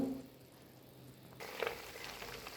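Butter melts into ghee in a pan, giving a soft sizzle that swells into louder bubbling frying midway, with faint scraping as it is stirred.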